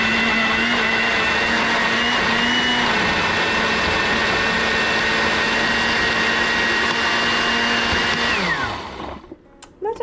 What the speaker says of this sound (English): we have all the peaches in the blender with the spices